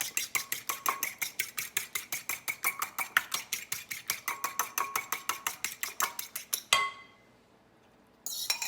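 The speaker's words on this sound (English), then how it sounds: "I'm gonna go ahead and add my third egg here. So there's my third egg. I'm just gonna mix it up a little bit." An egg being mixed into cheese puff dough in a pan, a rapid regular scraping and clinking of a utensil against the pan at close range, stopping briefly near the end before resuming.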